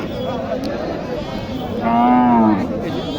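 A bony dairy cow at a cattle market in Naogaon's Modhoil haat gives one drawn-out moo midway, loud and near, over a constant murmur of crowd chatter.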